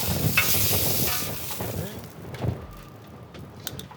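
Reverse-seared steaks sizzle loudly while a crust forms, hissing and crackling strongest at first and then fading, with a few clunks and sharp clicks near the end.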